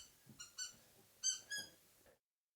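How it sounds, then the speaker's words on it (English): A dog plays with a squeaky toy late at night: four or five sharp squeaks come in uneven pairs at close range, then fade into silence. "the squeaky toy."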